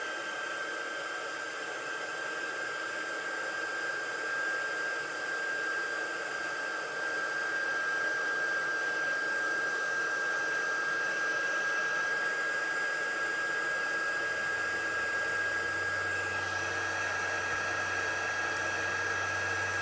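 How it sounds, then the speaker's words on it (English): A heat tool blows steadily on a card to heat set it, a continuous whooshing hiss with a faint high whine that holds for about twenty seconds, close and alone. "let's go ahead and heat set this"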